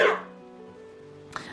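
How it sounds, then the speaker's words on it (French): A single harsh cough bursts out at the start, followed by a faint lingering tone and a small click near the end. "Faut que je tousse."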